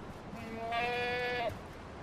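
A goat in the video game Far Cry 4 lets out a single clear, drawn-out bleat in the middle, over quiet background game ambience.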